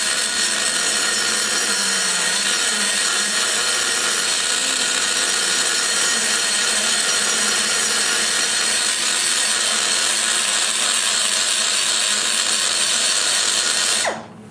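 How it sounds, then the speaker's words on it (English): A large Butcher Hog carving burr grinds steadily and loudly into a ProComp Stage IV Denmark Duo pipe chamber, opening up the scoop in one continuous rasping pass that stops abruptly at the end. "this big butcher hog, it sure saves a lot of time."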